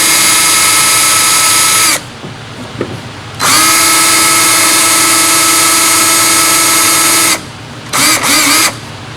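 A power tool whirs loudly in two long sustained runs as it loosens bolts on a 1980s GM power seat gearbox from a 1981 El Camino, with brief pauses and short bursts between.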